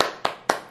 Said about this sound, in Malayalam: ഞാൻ തന്നെ പിന്നെ ഒന്ന് അപ്രീഷിയേറ്റ് ഒന്ന് കൈയടിക്കും